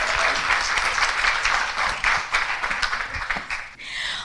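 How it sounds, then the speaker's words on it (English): Audience applause for a women's success panel and its moderator, a steady dense wash of clapping at moderate loudness that thins briefly near the end before picking up again. "can you please give a round of applause to Rebecca and our lovely panelists"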